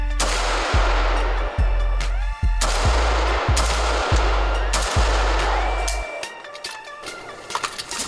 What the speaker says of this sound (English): see if we can get that muzzle blast in the shot